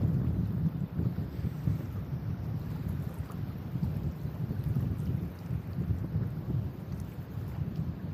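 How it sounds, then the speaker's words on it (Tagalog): Strong waves breaking and washing at high tide on a shore during light lure casting, a steady loud low rumble and wash with buffeting wind noise throughout, no talk. "Tapos malalakas yung alon."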